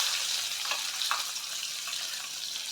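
Onion frying in a pan for a home-cooked lunch, a steady broadband sizzle with faint crackles and a few brief stirring scrapes, fairly quiet and continuous throughout.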